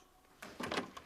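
Door being opened in a domestic scene, a soft quiet start followed by a louder rattling, scraping burst about midway through the short sound.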